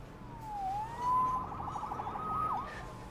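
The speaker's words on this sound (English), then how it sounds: "Saved by the siren." A wailing police siren in the video game Marvel's Spider-Man rises and falls, sweeping up and down in pitch, fairly loud and close, with no talking.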